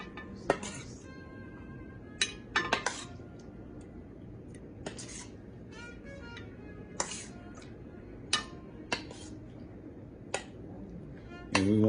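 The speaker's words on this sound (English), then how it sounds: "I'm gonna grab me a spoon and we're just gonna plate this up." A spoon clinks and taps against a dish while artichokes are plated, giving scattered, crisp metallic ticks spaced a second or two apart, with quiet kitchen room tone between them.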